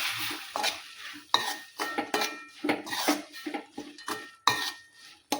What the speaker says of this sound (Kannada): ಹೆಸರು ಕಾಳು ಹಾಕಿ ಚೆಂದಾಗೆ ಮಿಕ್ಸ್ ಮಾಡ್ತೇನೆ ನೋಡಿ.